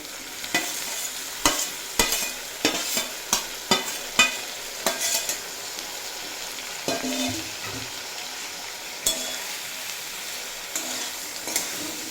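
Green tomatoes frying and being stirred with onion, garlic and chili in a pan, a steady sizzle broken by repeated sharp scrapes and knocks of a spoon, close and alone without talk.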